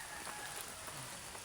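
Steady rain falls without pause in the early morning, a soft continuous hiss of drops pattering nearby, faint and even throughout.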